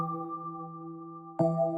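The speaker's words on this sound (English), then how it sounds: "I then switch it with this bell sound" Bell synth tone in FL Studio with EQ and chorus, a sustained chime chord held steady, then a fresh bright strike near the end, clean and alone.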